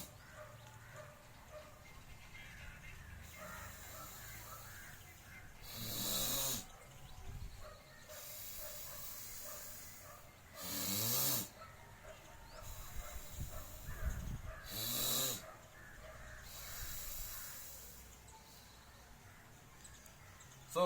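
Breath is drawn through one nostril during pranayama practice, with a few loud hissing inhales and exhales at long intervals between quieter stretches of soft background noise.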